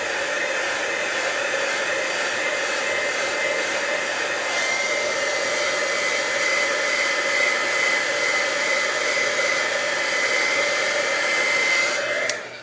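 Heat tool blowing over the back of embossed paper, a constant loud fan-like whoosh with a steady whine that runs without pause for about twelve seconds and then cuts off abruptly at the end, with no talking.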